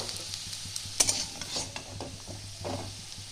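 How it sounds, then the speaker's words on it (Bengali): A large potato frying in oil in a pan for moong dal muri ghonto, with faint sizzling and soft scraping and stirring clicks, close and quiet. "আলুটা আমার ভাজা হয়ে গেছে এবার আমি তুলে নেবো"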